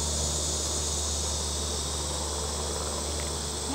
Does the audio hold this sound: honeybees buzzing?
yes